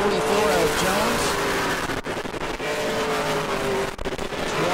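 Pro late model race cars roar past on the oval at New Smyrna, engines droning loud and steady with brief dips as cars go by, under a race announcer's continuous commentary.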